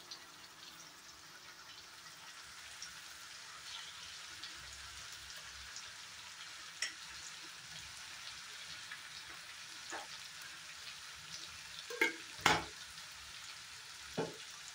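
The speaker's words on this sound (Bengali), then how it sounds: "এখন সুন্দরভাবে 2-3 মিনিটের মতো গাজরটা ভেজে নিব।" Grated carrot with sugar fries in a pan for carrot laddu, giving a faint, steady sizzle with a few sharper pops and spatula taps near the end.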